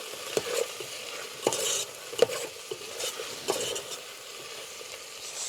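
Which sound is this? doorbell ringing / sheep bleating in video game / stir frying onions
stir frying onions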